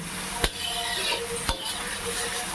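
Ingredients fry in a pan, turning light brown, with a continuous moderate sizzle and two sharp knocks of a utensil against the pan about a second apart.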